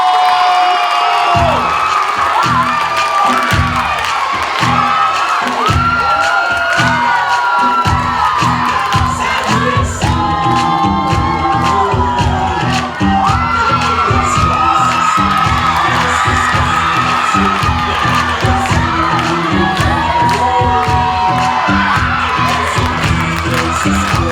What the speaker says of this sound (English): I should be hearing applause right now